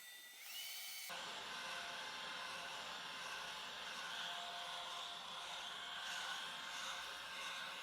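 A heat gun runs steadily on a low setting, warming a square piece of sticky pipe-wrap material on the floor during interior house construction: a continuous airy blower hiss with a whining tone, starting abruptly after a brief quiet moment and holding level throughout.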